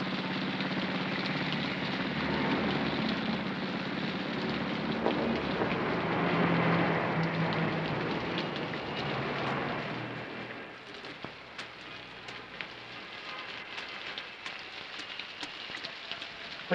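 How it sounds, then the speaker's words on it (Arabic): Steady rain pours down in a dense hiss alongside a low idling engine, then thins toward the end into lighter, scattered drops. "خش خش خش من المطر."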